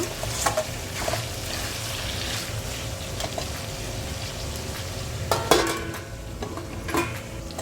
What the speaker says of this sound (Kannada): ಇದು ಕೂಡ ಇವಾಗ ಸಾಫ್ಟ್ ಆಗೋ ಥರ ಫ್ರೈ ಮಾಡ್ಕೊಳ್ಳೋಣ. ಒಂದು ಮೀಡಿಯಮ್ ಫ್ಲೇಮ್ನಲ್ಲಿ ಇಟ್ಕೊಂಡು ಮಗ್ಗಿಸ್ಕೊಳ್ಳಿ ಎಲ್ಲ ಬದನೆಕಾಯಿ ಟೊಮೆಟೊ ಎಲ್ಲ.